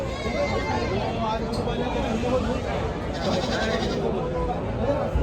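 Goats bleat at a busy livestock market, several calls rising over a dense crowd murmur and chatter, with voices talking nearby throughout.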